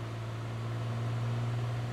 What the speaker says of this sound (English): That noise is the gear down.